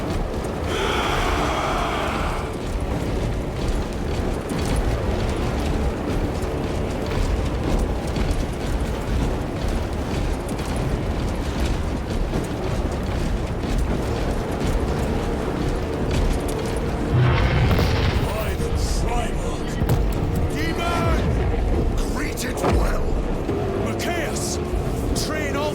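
Battle noise from Warhammer 40K Space Marine 2 on PS5: dense, continuous rumbling gunfire and explosion booms, loud and sustained, with shouted voices over the din throughout.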